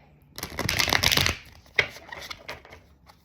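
A deck of tarot cards is shuffled by hand, giving a close, brisk riffle of papery flutter for about a second, then a few softer taps as the cards settle.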